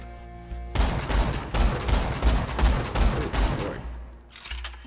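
Rapid bursts of gunfire from a weapon test-fired in Borderlands 2, a loud sustained volley of shots lasting several seconds before trailing off, with no talking over it.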